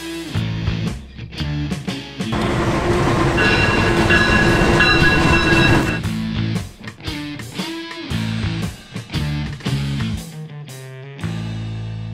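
A train running between Yogyakarta and Surabaya, Indonesia, rumbles loudly for several seconds, then gives way to intermittent clunks and rattles that continue close by.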